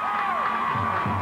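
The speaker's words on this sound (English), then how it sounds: "Big crowd." A large crowd roars steadily through a brief burst at a 1993 high school football game, Ledyard at Fitch, just before the opening kickoff.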